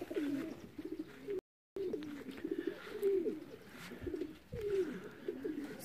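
Racing pigeons coo repeatedly after returning from a 700 km race, low throaty calls rolling on in a steady rhythm, close by, with a short silent gap partway through.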